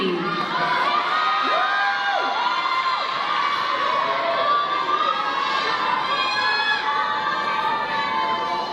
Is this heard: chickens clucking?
no